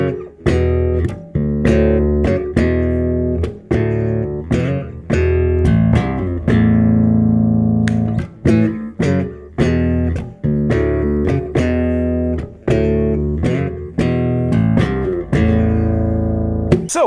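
Bass guitar plays an opening chordal line slowly, with loud plucked notes and chords, slides and steady rhythmic attacks, alone and close.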